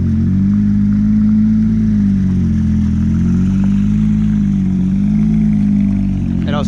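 A sports car engine runs loudly nearby with a deep, wavering hum, its pitch rising and falling in gentle revs throughout.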